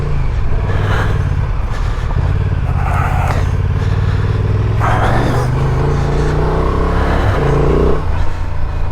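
A Honda Transalp motorcycle ridden off-road on dirt, its engine droning and revving loudly and steadily up close, with gear changes shifting the pitch throughout.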